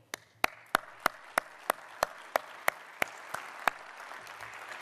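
Audience applause at a public policy talk on sports and social policy: sparse, evenly spaced sharp claps ring out roughly three times a second, moderately close, over a soft room murmur, with no talk.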